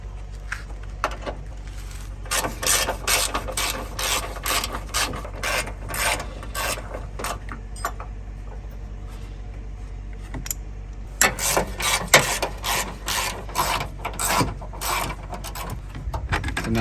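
A 10mm ratchet on bolts of a Honda Odyssey during a coolant leak repair gives repeated close rasping clicks in bursts, pausing briefly and then resuming, loud and near, with no talking.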